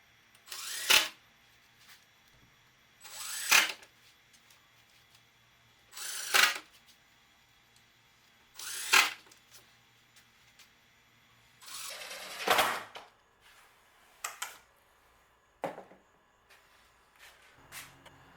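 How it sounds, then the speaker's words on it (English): A power drill drives screws into wooden boards for a farmhouse stove top cover. Five short, evenly spaced whirring bursts come a few seconds apart, followed by a few weaker, briefer bursts in a quiet room. "I'm going to make sure a screw is in each board going across"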